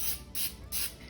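Cooking spray hisses from a can into a mini muffin tin in three short bursts, soft and close, each a breathy rush with brief pauses between.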